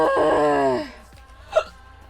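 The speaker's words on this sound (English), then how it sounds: "The hiccups have begun." A person's voice gives a drawn-out vocal sound, then after a short pause comes a single sharp, brief hiccup, close and clear.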